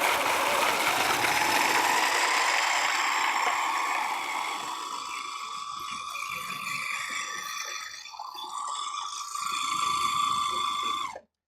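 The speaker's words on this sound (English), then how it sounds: "we're going to let it pulse. This part gets a little noisy." Food processor pulsing a matcha cashew energy snack mixture, a loud continuous whirring motor grind with a shifting mechanical pitch that runs steadily for about eleven seconds before cutting off abruptly.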